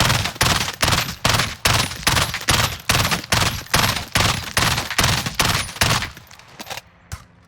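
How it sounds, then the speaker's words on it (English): Burst-fire gun in Call of Duty Warzone shooting at a mark on a wall, a rapid, loud, evenly spaced string of about fifteen sharp shots that ends with a couple of fading reports, with no talk. "let's aim at this particular mark right here, and let's just start shooting"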